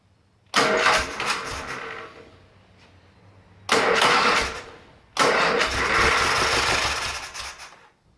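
A scrap car engine mounted on a run stand turns over in three loud, close bursts. Each one catches briefly and roars before dying back, with quiet gaps between attempts.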